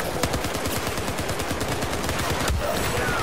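Pistol fire in the Battlefield 4 game on the Flood Zone map: dense, rapid gunshots crackle loudly and continuously throughout, with no pause between reports.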